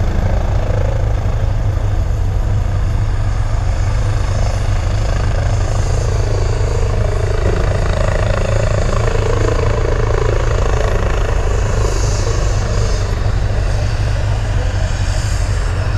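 A Polish air ambulance helicopter lands at a rescue scene, its rotor and turbine roaring loud and unbroken for the whole stretch, a dense close whir that swamps any other sound.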